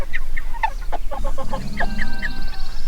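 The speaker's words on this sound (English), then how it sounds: "I have a rooster crowing in here also in the mornings." Poultry in a backyard shed, with a rooster among the birds, give off a run of close, loud clucks and squawks, followed by a rising, drawn-out crow-like call near the end.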